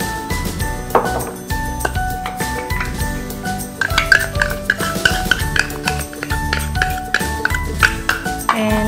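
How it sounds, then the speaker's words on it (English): Tapioca flour being mixed with corn flour in a bowl gives off repeated light clinks and taps of a utensil against the bowl, in an irregular stirring rhythm throughout. "I'm going to mix it with 1 tablespoon of corn flour."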